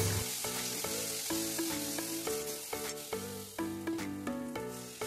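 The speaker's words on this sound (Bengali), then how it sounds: "এবার মশলাটা ভালো করে কষিয়ে নেব।" Turmeric, cumin and coriander powder masala fries in oil, a steady close sizzle with occasional stirring scrapes, partly under background music.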